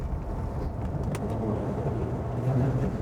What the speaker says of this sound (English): Very few Bentley S-Type and Silver Cloud owners would drive their car like this, but it can actually be done.